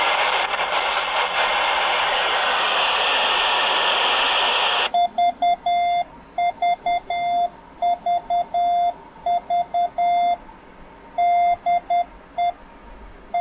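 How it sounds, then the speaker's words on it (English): A CW Morse code tone generated by FLDigi comes through an FM ham radio receiver on 146.46 MHz: after a few seconds of loud static hiss, clear on-off beeps key out in a steady rhythmic pattern. "So if I put in there VVVVV DE KB9RLW and I go into transmit, we should hear CW on FM"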